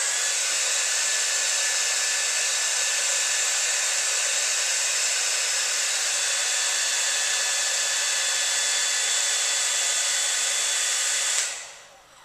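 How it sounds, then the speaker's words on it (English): A steady, loud whooshing roar of a hair dryer blowing air, running continuously before cutting off abruptly near the end. "take your hairdryer, turn it on"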